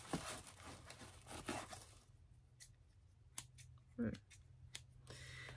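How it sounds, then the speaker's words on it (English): Crisp snipping of scissors, a few quick cuts followed by scattered clicks, close and soft, with faint handling noise. "I'm liking the way I always just listen to scissors"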